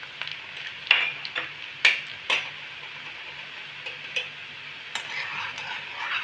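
Chopped garlic frying in hot oil, a moderate hiss punctuated by several sharp clicks of a spoon against the pan, fairly close and without voices.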